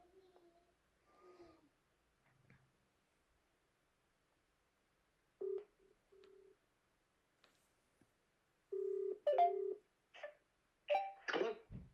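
A phone calling back gives a few brief, steady electronic tones, faint and evenly pitched with silent gaps between them, followed by a short burst of louder noise.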